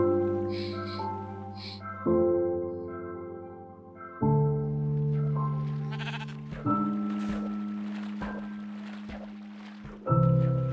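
Sheep bleating in Minecraft, a series of clear, wavering bleats repeating every couple of seconds at close range against a quiet background.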